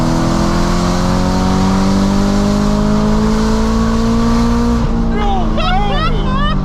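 BMW E92 M3 V8 with an extreme exhaust setup revs loudly and rises steadily in pitch, then drops into quick throttle blips and wavering revs near the end, close and powerful.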